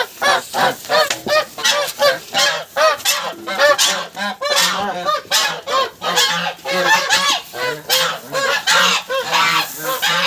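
A flock of geese honks continuously and loudly at close range, overlapping calls with barely a pause over ten seconds.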